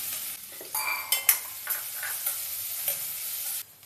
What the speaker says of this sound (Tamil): நான் வெறும் சோம்பு தான் போட்டு தாளிக்க போகிறேன்.